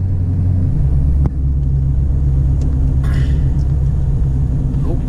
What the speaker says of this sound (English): we'll barely touch the throttle. I'm spinning my tires